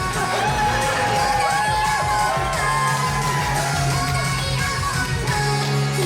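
An audience at a convention masquerade cheers loudly, a sustained roar of yells, whoops and shouting voices that fills the whole stretch without letting up.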